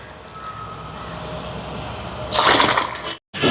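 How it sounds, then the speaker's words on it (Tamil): Soaked rice is washed in water: a low background hum gives way to a sudden close, bursty slosh and pour of water that stops abruptly. "அரிசி கழுவிங்க பாருங்க நல்லாவே ஊறிட்டு"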